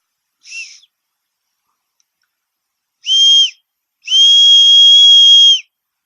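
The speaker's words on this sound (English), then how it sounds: "So the whistle's actually not too bad either." The whistle on a SOL Phoenix survival tool is blown three times: a short chirp, then a half-second blast, then a long shrill tone of over a second, loud and close.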